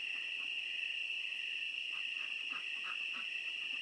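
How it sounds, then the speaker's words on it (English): A steady, high-pitched chorus of crickets and cicadas fills a night soundscape near Patagonia, Arizona, with faint frog croaks scattered underneath. "it's just crickets and cicadas and frogs."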